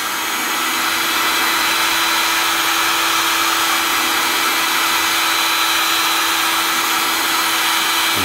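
A heat gun blows hot air steadily onto a circuit board around a component socket, a loud, continuous whooshing hiss with a faint steady whine, unbroken for the whole stretch and with no talking.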